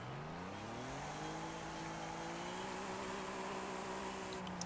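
Car engine in the Forza Horizon 5 racing game, droning steadily and climbing smoothly in pitch as it accelerates, loud and continuous with no voices over it.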